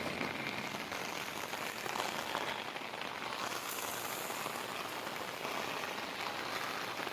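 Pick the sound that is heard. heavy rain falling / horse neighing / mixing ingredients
heavy rain falling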